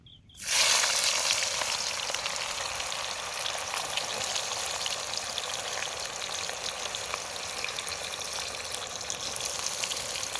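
Onions frying in hot oil in a home kitchen, a steady dense sizzle that starts abruptly as they hit the pan and holds loud and continuous throughout, with no talking.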